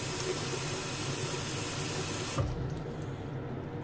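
Water pours hard from a tap into a sink with a steady, loud hissing rush that stops abruptly partway through, leaving a quieter room tone behind.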